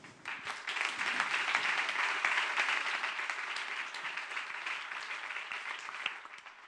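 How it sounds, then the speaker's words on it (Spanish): Sustained audience applause at an international science, technology and equality congress, dense and steady clapping from a hall crowd that holds for several seconds before fading slightly near the end. "Un fuerte aplauso para la doctora Sayé."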